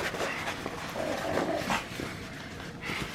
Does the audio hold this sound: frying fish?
no